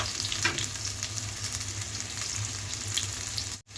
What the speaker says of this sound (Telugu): క్యారెట్ ముక్కలు, పచ్చిమిర్చి, బీన్స్ ఇదన్నీ కొంచెం ఫ్రై చేసుకోవాలి ఆయిల్లోనే.